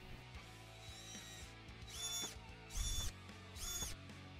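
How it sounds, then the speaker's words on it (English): A power drill whines in short bursts, pre-drilling holes into a wooden cutting board a few times with brief pauses between, close by and with no talking. "we can pre-drill our holes so we can screw the new cutting board in"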